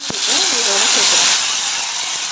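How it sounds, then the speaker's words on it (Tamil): Mustard seeds for tempering sizzle and hiss loudly in hot oil, a steady close crackle with a voice talking over it briefly. "இது வந்து கடுகு போட்டு தாளிச்சிடலாம்"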